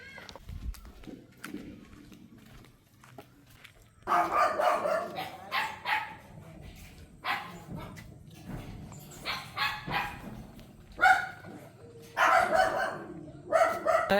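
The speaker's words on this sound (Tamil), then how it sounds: "நாய் இருக்க அந்த வீட்டுக்கு நாங்கள் வந்திருக்கிறோம்." Dogs barking outside a house, loud repeated bursts in clusters with short pauses, some yips mixed in, close by over a quiet outdoor background.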